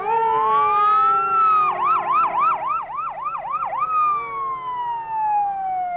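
A fire engine from North Reading sounds its wailing siren during a town anniversary parade in Wilmington, Massachusetts, the tone sweeping up and down in rapid yelps midway before settling into a long falling wail, loud and close.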